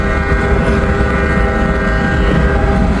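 A passing freight train gives a loud, steady low rumble of rolling cars with a sustained mechanical hum and some tonal ringing, close by and continuous, on a quiet autumn afternoon with no talk.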